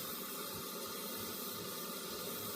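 Water heating toward a boil in a 1930s coffee pot, a steady faint hiss like rising steam that runs unbroken throughout.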